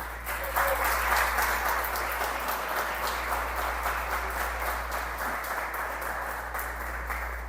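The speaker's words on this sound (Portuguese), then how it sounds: "Dá um aplauso a ele nessa manhã." Church congregation applauding during a morning service, sustained clapping from a large crowd that stays fairly even for several seconds over a low background hum, no voices.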